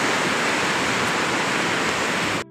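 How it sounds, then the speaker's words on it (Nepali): A river swollen with rain rushes past in a loud, dense, unbroken roar of churning water, close and steady, cutting out abruptly at the end. "खोला पनि बढिरहेको रहेछ"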